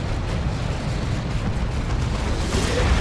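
Loyalist Deathwing Terminators fire Cyclone missile launchers at a tank in Dawn of War 2, filling the scene with a dense, continuous rumble of overlapping missile explosions and blasts, loud and steady throughout with no talk.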